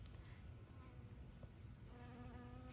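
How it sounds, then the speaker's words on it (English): Honeybees buzz around crimson clover outdoors, a faint, close swarm of overlapping wing drones that rises and falls steadily with no voices. "You can probably hear all the others flying around me."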